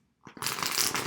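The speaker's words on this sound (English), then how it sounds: "I'm going to shuffle on my lap to not disrupt this" Oracle cards shuffled on a lap: after a moment of quiet and a couple of soft taps, a close, continuous papery riffle of cards sliding against each other.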